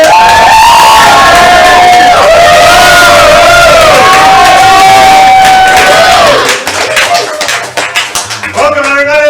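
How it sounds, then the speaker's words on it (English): A comedy club audience at an improv show cheers, whoops and applauds loudly as the host is introduced, a dense crowd roar that eases toward the end into scattered claps and shouts. "I heard some cheering."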